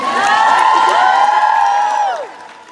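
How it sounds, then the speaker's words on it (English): Loud whoops and cheers from a university crowd at a campus get-out-the-vote event at UT Dallas, several high voices shouting together before fading out near the end. "So we can have a round of applause for them."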